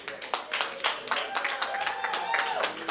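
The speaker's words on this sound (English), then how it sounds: "can we give an applause for the children?" Applause for a group of children at a Kwanzaa Imani (Faith) celebration in a church, with scattered hand claps, cheering voices and talk mixed through a few seconds.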